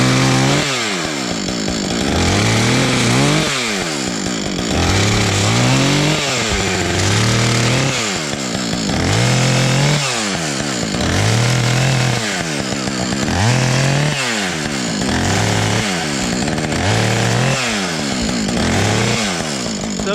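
A chainsaw is warmed up by repeated revving, loud and close, its engine climbing and falling in cycles roughly every couple of seconds for about twenty seconds.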